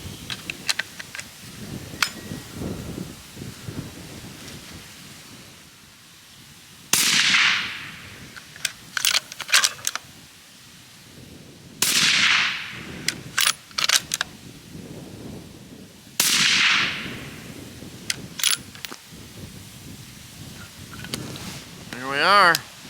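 A Seekins Precision Element rifle fires 125-grain Deer Season XP rounds, producing three sharp, loud shots spaced several seconds apart outdoors, with quieter clicks and handling noises in between.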